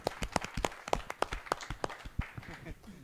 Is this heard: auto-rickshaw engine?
no